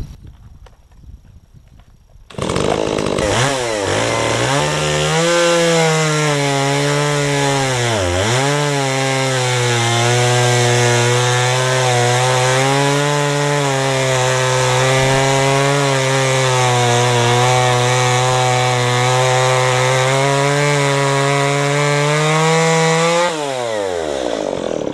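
A Stihl MS170 chainsaw fitted with a ripping chain rip-cuts along wood, its engine snarling in after a brief pause and holding a loud, steady buzzing whine with a short pitch dip under load before cutting off near the end.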